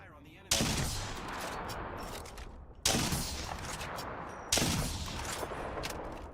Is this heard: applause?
no